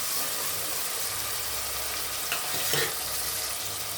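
Chopped tomato frying in hot oil for egg biryani, a steady soft sizzle throughout with a brief stir-scrape near the end, close and moderately quiet.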